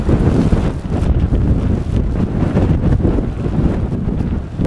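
Strong wind buffets the microphone at a coastal viewpoint over the English Channel, a loud continuous low roar with gusty surges and no voices.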